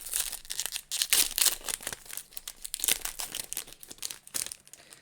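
Crinkling foil wrapper of a Core 2019 booster pack being torn open and handled, a close series of sharp crackles and rips in irregular bursts, with no talking.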